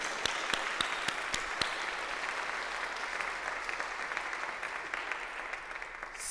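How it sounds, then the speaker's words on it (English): An audience at an ACLU town hall gives a round of applause for volunteers and staff, a few loud nearby claps at the start within a steady wash of clapping that continues evenly to the end. "Let's give them a round of applause."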